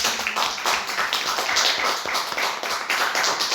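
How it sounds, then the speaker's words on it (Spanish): Congregation clapping in a church service, a dense sustained patter of many hands filling the space evenly without a break, with no voices over it. "Pueden dar un aplauso a Dios."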